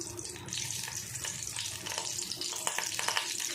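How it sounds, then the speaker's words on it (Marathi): Garlic hits hot oil for a tempering and gives a steady close hiss and crackle of sizzling, moderately loud, with no talk. "लसूणची आता फोडणी घालूया आपण"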